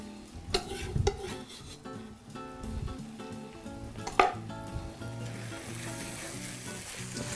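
Onions frying in a pan and being stirred, a steady sizzle close by with scraping and a few sharp knocks of a utensil against the pan, no voices.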